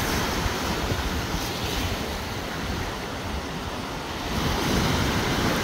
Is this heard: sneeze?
no